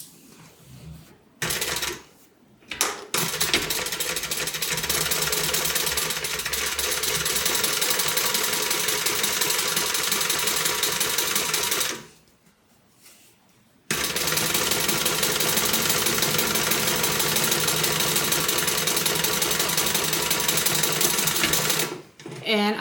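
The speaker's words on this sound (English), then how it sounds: "with the seam allowance pointing up, I'm going to go ahead and top stitch this" A sewing machine top-stitches a tote bag in long, fast, continuous runs of rapid mechanical clatter, stopping briefly a few times between bursts.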